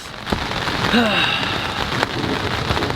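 Steady rain falls on a vegetable garden, a dense, even hiss of drops spattering on leaves and soil. It continues unbroken throughout with no talking.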